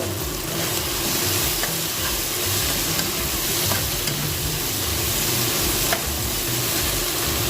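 Steady frying sizzle of ingredients being sautéed in a pan for Filipino mung bean stew, with occasional light stirring clicks and a constant hiss, no talking.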